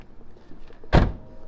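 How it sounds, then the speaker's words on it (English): A single solid thunk of a 2007 Subaru WRX door opening nearby, heard against quiet background. "Door open."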